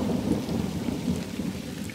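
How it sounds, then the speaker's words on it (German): Sudden heavy rain pours down outdoors in the wild, a dense, steady roar of drops with a low rumbling undertone, close and continuous with no talking. "jetzt regnet es ganz plötzlich in Strömen"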